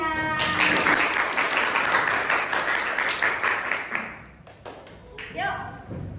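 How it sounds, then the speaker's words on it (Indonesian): Classroom of students applauds after a presentation in an Indonesian art lesson, a burst of mixed claps and taps that fades after about four seconds, followed by a voice speaking. "Beri tepuk tangan semuanya."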